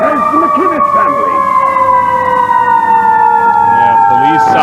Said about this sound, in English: police sirens at the building